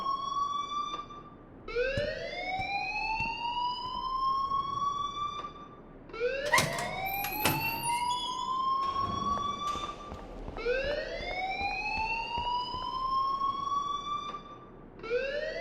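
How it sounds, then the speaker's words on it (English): A repeating rising-and-falling electronic alarm wails through a school hallway in Life is Strange, each sweep climbing in pitch over a few seconds, cycling steadily and moderately loud with no talk over it. "please turn off that alarm since that's your job"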